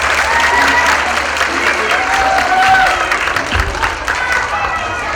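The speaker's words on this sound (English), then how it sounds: "let's give them one more round of applause." A school assembly crowd of young children and adults gives a loud, sustained round of applause for second graders, continuous clapping throughout with a busy hall murmur underneath.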